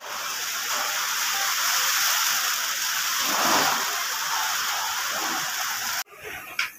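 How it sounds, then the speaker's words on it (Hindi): Heavy rain pours down in a dense, steady hiss that cuts off abruptly near the end. "जोर से आएगी ना बारिश"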